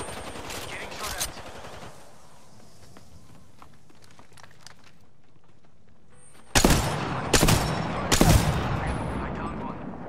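Gunfire in Apex Legends: quieter shots and footsteps at first, then a lull, followed by loud, close bursts of rapid automatic fire in three or four clusters near the end.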